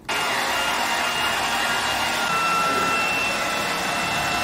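A handheld hair dryer blows on a screen-printing screen to dry the ink for printing T-shirts, giving a steady, close, loud whooshing roar that runs unbroken through the whole clip.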